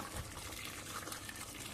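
Hot water pours in a steady, rushing stream, a continuous broadband gush that stays even throughout with no voices.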